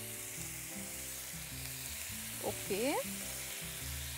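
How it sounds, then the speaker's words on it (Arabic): Ginger chicken laid onto a hot grill pan, giving a steady close sizzle, with a brief burst of squeaky scraping partway through; someone speaks briefly over it. "ونشوف الجريل جهزت ولا لا. كده جهزت. حط الفراخ بتاعتنا"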